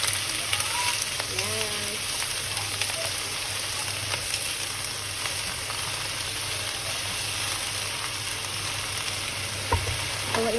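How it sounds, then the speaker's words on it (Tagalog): Vegetables stir-frying with garlic in cooking oil, a loud, continuous, close sizzle with stirring scrapes, and a voice speaking briefly over it near the start. "Ngayon lagay ko na po yung gulay. Yan, haluin na natin."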